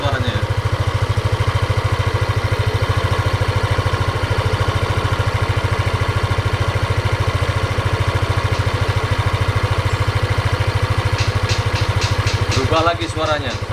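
Yamaha Aerox scooter engine idling before tuning, a steady, close, even putter with a fast regular pulse that continues unchanged, with a brief chirping sound near the end.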